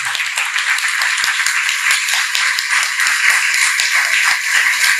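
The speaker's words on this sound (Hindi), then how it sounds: "एक बार जोरदार तालियों से आप उनका अभिनंदन कीजिए।" An audience at an Arya Samaj discourse claps to welcome a guest, producing a brisk, steady patter of many hands with sharp individual claps standing out throughout.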